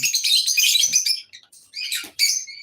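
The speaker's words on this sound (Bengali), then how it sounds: "এখানে লাভ বার্ড অনেকগুলো আছে" Pet lovebirds chirp in a close, loud burst of high, shrill twittering, with short pauses between clusters of calls.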